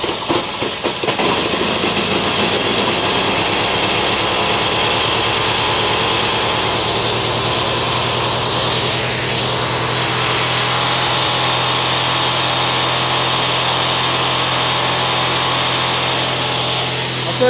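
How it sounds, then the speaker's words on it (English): An Agway GT 1846 garden tractor engine runs steadily after being choked, a close, loud, even idle hum that holds for the whole stretch with no voices. "I'll tell you, that's smooth running engine."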